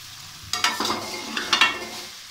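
Vermicelli is stirred in hot desi ghee in a Punjabi home kitchen, giving a few close scraping, sizzling bursts against a quiet background.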